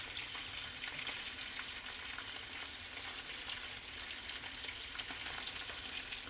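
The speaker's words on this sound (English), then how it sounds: "And all you're doing again is you're just browning them." Queso frito, slices of frying cheese, browning in a pan with a steady, crackling sizzle of hot oil that runs evenly throughout, close but fairly soft, with no talking.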